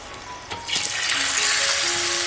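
Marinated Konkan-style river fish slid one by one into hot oil, bursting into a loud, steady sizzle that swells and holds, with faint clinks of handling at the start.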